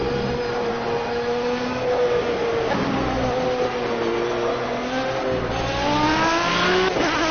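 Race car engine in the Project CARS racing game during a Le Mans endurance race, a steady loud whine that rises and falls in pitch through gear changes, continuous and close.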